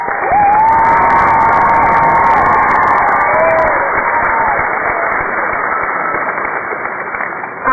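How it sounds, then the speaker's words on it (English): A commencement crowd at North Carolina Central University applauds and cheers for the honorees, a loud, sustained roar of clapping and shouts with a few whistles, gradually easing toward the end. "Please join me in applauding them"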